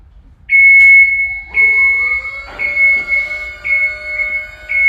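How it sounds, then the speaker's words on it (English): Loud electronic alarm beeps in repeated piercing tones, starting and stopping in bursts over a faint low hum, with no voices. "it's going to beep again in a moment"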